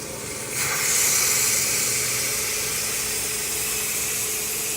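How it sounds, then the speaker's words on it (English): A steady, loud hiss of steam rushing out of a pressure cooker or Instant Pot, starting abruptly after a brief quieter moment and continuing without pause. "Now we're releasing the steam."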